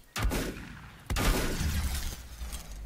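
Two sharp shotgun blasts from Volcanoids ring out about a second apart, each followed by a rumbling burst and debris as robots are hit, over continuous low game noise.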